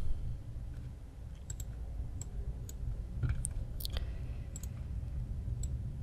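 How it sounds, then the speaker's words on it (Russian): A computer mouse clicks while someone works in Adobe Illustrator: sparse, sharp, close clicks, some in quick pairs, spread over several seconds against a low room hum. "Так, двойной клик."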